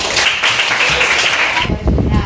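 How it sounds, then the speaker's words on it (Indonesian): Classroom applause for a student after a presentation, a dense wash of clapping from students that continues steadily, with voices rising near the end. "Oke, tepuk tangan untuk Alia."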